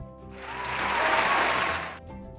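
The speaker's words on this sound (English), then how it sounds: "can we get a big round of applause for our incredible guest?" A podcast audience gives a short round of applause for a guest at the end of an episode, swelling up and fading within a couple of seconds over faint background tones.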